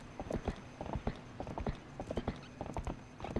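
Hooves clop in a quick, uneven rhythm, close and clear, with no talking, from a horse in the video game Legend of Zelda: Twilight Princess.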